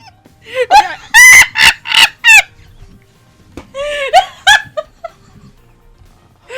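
A person imitates a clucking chicken, giving loud squawking, crowing-like vocal bursts in two clusters separated by a short pause, with a faint low hum underneath.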